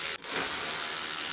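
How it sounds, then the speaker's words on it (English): A ratchet working loose the radiator bolts on a truck during repairs, giving a brief dense clicking rattle that runs steadily and close up, with no talk. "now we can remove the radiator bolts here."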